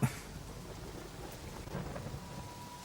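Rain pours during a horror movie shoot, a faint, steady hiss of downpour with a low rumble like distant thunder and a soft thump at the start.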